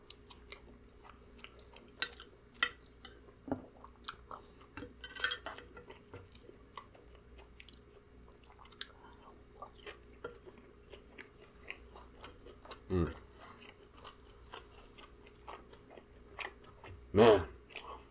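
Rice being chewed during a mukbang of orange chicken and Mongolian beef: close, soft, wet chewing and small crunches repeat steadily, with occasional clicks of a spoon and louder bursts near the end.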